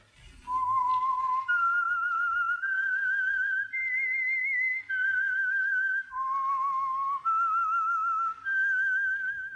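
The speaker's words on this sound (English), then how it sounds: "That whistle is your signal for the Signal Oil Program, The Whistler." The whistled theme of the 1940s Signal Oil radio mystery The Whistler: a lone, clear human whistle carrying a slow rising and falling melody of sustained notes with brief gaps, close and alone.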